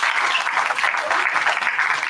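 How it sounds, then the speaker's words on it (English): A middle school audience claps in a dense, steady round of applause that fills the whole stretch, loud and close with no pause. "let's give them a round of applause"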